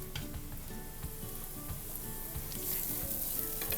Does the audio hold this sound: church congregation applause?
no